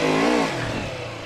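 A motorcycle engine revs hard as the clutch slips, a loud rising whine that drops off into a lower, uneven rumble after a moment.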